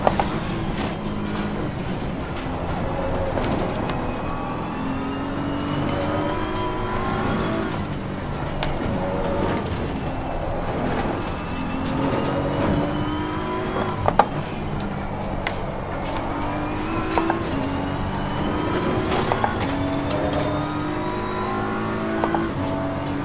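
A BMW M4 race car in a racing game laps the Nordschleife at night, its engine droning and revving steadily through gear changes with blow-off valve chatter on downshifts, continuous and close throughout.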